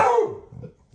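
Hera, a pet dog, gives a single sharp bark up close, which trails off into a low growly tail, with no talking.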